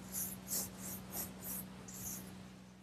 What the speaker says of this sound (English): I'm just taking a clean rag and rubbing the stain so that I take off any of the excess